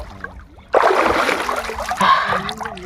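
Water splashes loudly as someone bathes in a cold, shallow river with a sandy bed in winter in Assam. After a quiet start the splashing churns up suddenly and keeps going close by.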